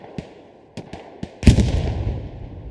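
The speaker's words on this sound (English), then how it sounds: "Artillery still demolishing DC down here." Artillery fire in the World War II shooter Hell Let Loose on a frozen winter battlefield: a few distant sharp thumps, then one heavy nearby blast whose rumble rolls on and slowly fades.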